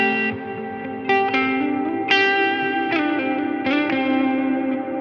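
Electric guitar through a Line 6 Helix with a tailored, darker reverb, chords and picked notes struck roughly every second and blooming into a washy ambient tail, heard alone without talk.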